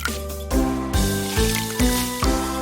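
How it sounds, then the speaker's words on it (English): Platform heels filling with water, a series of about five squishy, gurgling sloshes in a regular rhythm, close and fairly loud. "Also, platform heels filled with water."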